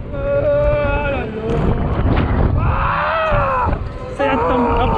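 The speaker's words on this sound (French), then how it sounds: "En plus il y a le vent." Strong wind buffets the microphone throughout an outdoor fairground ride at a fair in Chalon-sur-Saône, roaring steadily and loudly beneath excited voices talking and shouting.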